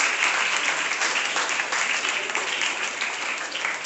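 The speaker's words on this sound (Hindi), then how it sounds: "एक बार अपने इन बच्चों के लिए ताली जरूर बजा दीजिए" An audience at a school report and award distribution ceremony applauds the students, a dense, steady wash of clapping held at an even loudness from start to finish without speech.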